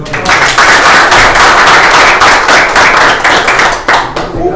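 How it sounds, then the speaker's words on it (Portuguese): Loud, close applause from an audience fills the whole moment, a dense burst of many hands clapping with a few sharper individual claps standing out. "Pessoal, uma salva de palmas para"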